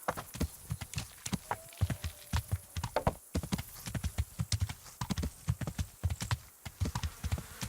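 Horse hooves clip-clopping in a steady walking rhythm within the medieval role-playing game Kingdom Come: Deliverance, moderately loud and continuous with no talk over it.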